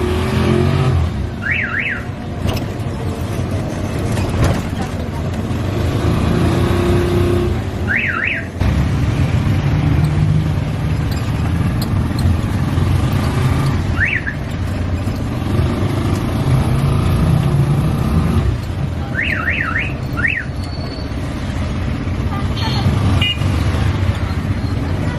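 A tuk-tuk rattles through the crowded streets of Lahore's Walled City, its engine steady under dense traffic, with horns beeping in short repeated bursts and people talking nearby.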